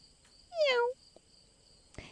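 A human voice imitates a kitten with one short, rising-then-falling meow, fairly clear against a quiet background with a faint steady high chirping underneath.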